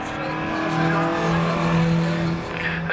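Historic Formula Junior race cars at Castle Combe circuit roar steadily through an overtaking section, a continuous loud engine drone with rising pitch and faint tire noise, while commentators talk over it.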